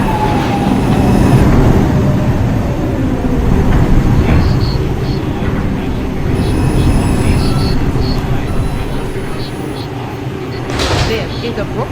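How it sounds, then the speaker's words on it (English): An R142 5 express subway train, Brooklyn-bound, rumbles and hums steadily in a busy station throughout, with rail clatter, door chimes and a brief high squeal near the end, plus faint background voices. "This is a Brooklyn-bound 5 express train."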